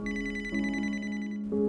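A telephone rings at 3 a.m. with an emergency call from the police: a steady, bright electronic ring tone that shifts its pattern twice, close and loud, with no talking.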